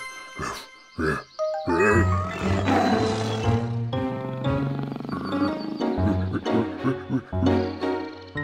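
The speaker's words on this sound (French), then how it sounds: "Un méchant tigre est en train de poursuivre mon pauvre chien innocent, Barky." A cartoon tiger gives loud, rough roars in an animated children's show as it chases a dog, with bursts of roaring and growling over music and effects.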